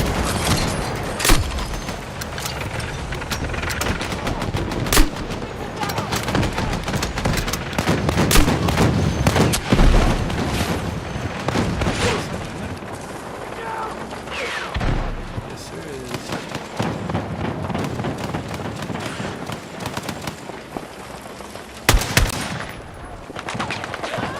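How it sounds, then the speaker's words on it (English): Dense gunfire in a shooting video game, with rapid automatic bursts and sharp single shots packed close together throughout, under a player talking excitedly. "Did I just have to lay down suppressing fucking fire?"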